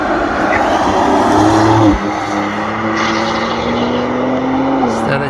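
Race car fitted with a Manthey-Racing aerodynamic kit drives past at a track, loud engine tone sweeping through and shifting pitch, followed by steady engine drone, with a voice talking over it.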